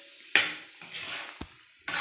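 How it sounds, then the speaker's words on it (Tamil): Urad dal kali being stirred in a pot while it dries, with scraping and dragging spoon strokes in separate bursts. "இப்போ வந்து நல்லா சுண்டிட்டு பாருங்கள்"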